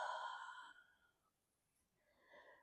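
A slow, breathy exhale during a yoga flow, loud at first and fading over about a second, followed by quiet and then a softer second breath near the end.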